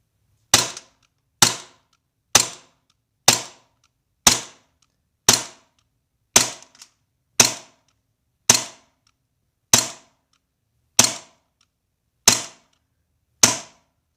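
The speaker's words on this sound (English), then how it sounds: "We'll shoot it into our little BB trap here. It's just like a steel little BB trap." An airsoft Glock 42 fires BBs into a small steel BB trap, producing thirteen sharp, evenly spaced cracks roughly one second apart with near silence between them.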